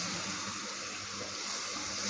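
A tablespoon of water goes onto spices frying in a pan for potato samosa filling, making a steady broadband hiss and wash of water that stays even and fairly faint with no talking.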